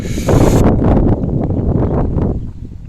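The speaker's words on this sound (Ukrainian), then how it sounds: "вітер северний" Strong north wind buffeting the microphone in loud, rough gusts during a freeze, with a hissing rush at the start that drops into low rumbling.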